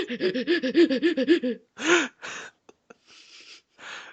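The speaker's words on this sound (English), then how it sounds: "the Lekmon makes stupid panting noises" Rapid, rhythmic panting bursts from a cartoonish creature voice, about a dozen quick breaths, followed by a few harsher huffs and snorts with short pauses.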